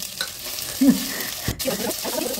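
Oil spits and sizzles around frying cabbage in a pan, a steady close hiss with a couple of louder stirring scrapes and pops, no speech.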